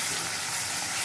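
Taro roots frying with salt in a pan, a steady, dense sizzling hiss held at close range with no talk over it.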